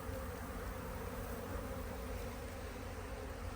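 A dense, steady buzz of many bees swarming and attacking a colony at a Paynes poly hive, continuous and close, with no voices.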